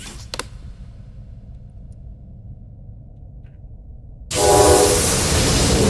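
A toy-making machine in the Poppy Playtime Chapter 1 video game starts up abruptly after a quiet hum. It gives a loud, broad roar that carries on steadily to the end, with a click near the start.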